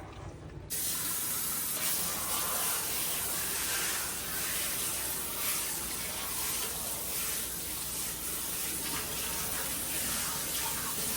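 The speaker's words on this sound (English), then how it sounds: "I'm gonna wring it out and we're gonna rinse it off." Water pours and splashes steadily as a tanned beaver hide is rinsed, a loud continuous gush like a running tap that starts abruptly and carries on without voices.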